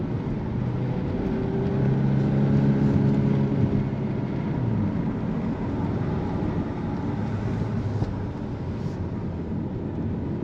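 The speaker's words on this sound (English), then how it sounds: "And the pops and bangs for the back just sound great." Volkswagen Golf R Performance driving with a steady droning engine and exhaust note from inside the car, the tone rising and easing; a few faint crackles near the end hint at exhaust pops.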